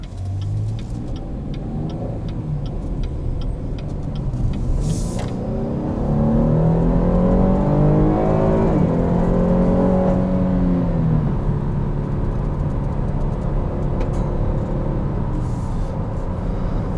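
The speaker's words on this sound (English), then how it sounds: "it's one of the best sounding General Motors motors" A Chevrolet Blazer RS engine runs steadily up close, its tone rising as it revs and then settling back to a smooth idle, with no talking.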